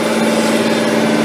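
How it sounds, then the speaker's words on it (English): A tractor raking hay in a field during haymaking gives off a steady, loud engine drone with a constant low hum and no break across the short stretch. "There went the hay raking tractor right there."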